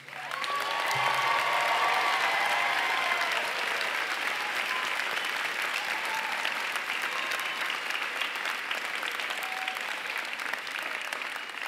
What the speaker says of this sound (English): Graduates, please offer these amazing people another round of applause.